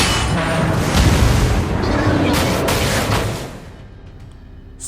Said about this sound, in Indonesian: Saat musuhnya menembak, Hopper memerintahkan untuk menurunkan jangkar yang membuat kapal itu berhenti dan terhindar dari tembakan lawan.